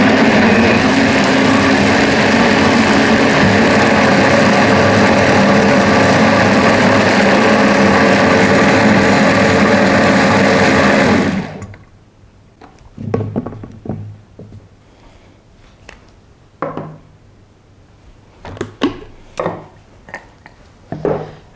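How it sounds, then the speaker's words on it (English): Stick blender running while making guava sauce, a loud steady motor whine and buzz for about eleven seconds, then it stops, leaving quiet room sound with a few scattered knocks and clatters. "With this blender, you get a blending stick"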